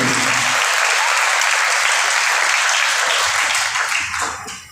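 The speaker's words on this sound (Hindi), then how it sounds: "तालियां।" A church congregation at an Easter service bursts into loud, sustained applause, a thick roar of many hands that keeps steady for several seconds before tapering off at the end.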